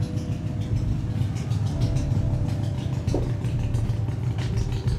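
A Harley-Davidson motorcycle engine idling nearby with a steady low rumble, loud and continuous throughout.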